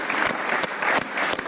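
Studio audience applause on a Pakistani TV cricket talk show, a short continuous burst of clapping from a small crowd, fairly loud and close with no voices over it.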